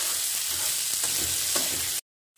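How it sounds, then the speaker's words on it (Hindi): Grated ginger and garlic paste sizzles and fries steadily in a hot pan, a dense continuous crackle with a few faint stirring scrapes, close and fairly loud, cutting off abruptly near the end. "अदरक लहसुन का पेस्ट डाल देंगे। अदरक लहसुन को हमने ग्रेट कर दिया था और उसको कुछ समय तक पकाएंगे।"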